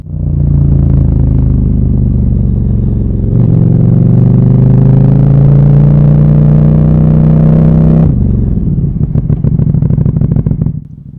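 KTM 1290 Super Duke R motorcycle being ridden, a loud, close engine drone that rises in pitch as it accelerates, holds, then drops off into a rougher, pulsing idle-like rumble.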